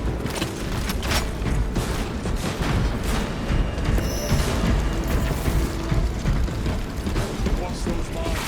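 Weapon reloading in the video game Space Marine 2, dense mechanical clicks and metallic ratcheting under a continuous loud battle din of booms and crashes, with no clear break between the reload and the combat noise.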